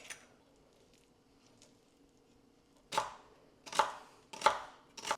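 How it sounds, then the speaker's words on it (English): A knife finely chops celery on a board: near silence at first, then four crisp, close chops in quick succession. "So I just finely chopped this celery."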